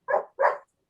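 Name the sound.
dog barking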